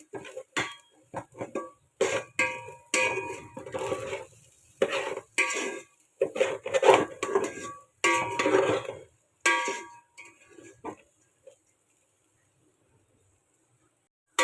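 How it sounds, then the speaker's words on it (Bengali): Rice and lentils being stir-fried with spices in a pan for a basmati chicken vegetable khichuri, giving repeated scraping and clinking of a spoon against the pan in short bursts, then falling quiet near the end. "এগুলো দিয়ে আমি ভালো করে আবার একটু চাল ডালগুলো ভুনে নেই"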